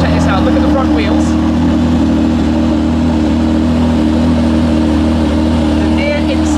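A GT car engine runs loud and steady throughout at close range, its low drone constant with slight rises in revs and some faint clatter over it.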